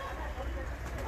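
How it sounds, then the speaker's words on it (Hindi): Pigeons coo softly on a rooftop loft, low murmuring calls blended into steady outdoor noise with faint voices in the background. "कबूतर कौन से हैं आप लोगों के पास,"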